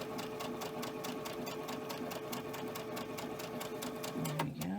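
Sewing machine stitching quilt pieces with white thread at a 2.5 stitch length: a steady, fast mechanical chatter of needle strokes, close and continuous, slowing and stopping at the end.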